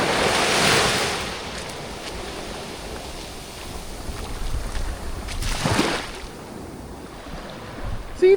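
Ocean surf washes onto a white sand beach at Kāʻanapali, Maui, in broad rushing swells, with a louder wave surging midway and steady wind noise buffeting the microphone.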